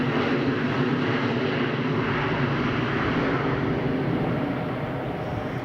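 A TUI airliner on the runway at Madeira Airport gives off a steady, fairly loud jet engine roar with broadband rumble that eases slightly toward the end.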